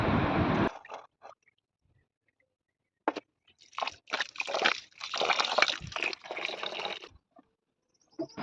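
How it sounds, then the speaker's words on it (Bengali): Rice being washed by hand in water in an outdoor kitchen, with irregular bursts of sloshing, swishing and gritty grain rubbing, close and fairly loud, separated by brief quiet gaps. "আমি চালটা ধুয়ে ভাতটা করতে দিয়ে দেবো"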